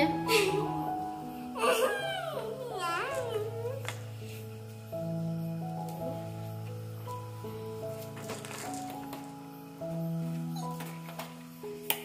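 A cat meows repeatedly indoors, with several drawn-out, wavering cries close by, while a person talks throughout.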